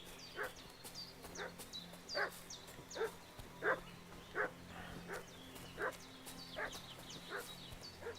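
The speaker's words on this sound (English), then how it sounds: "What's that dog making such a fuss about?" A dog barking in Kingdom Come Deliverance 2, sounding as a steady run of about a dozen evenly spaced, moderately distant barks over quiet ambient noise.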